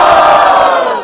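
A crowd at a freestyle rap battle in Barueri roars and shouts loudly in a single sustained burst of cheering as a vote for a rapper, fading slightly at the end.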